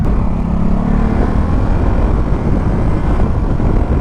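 A Ducati Supersport S motorcycle is ridden hard with its quickshifter, a loud, steady engine roar mixed with rushing wind that holds at a constant level with no distinct gear change standing out.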